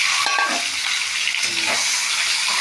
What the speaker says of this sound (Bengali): সিদ্ধ করা ডিমগুলো ভাজা হচ্ছে।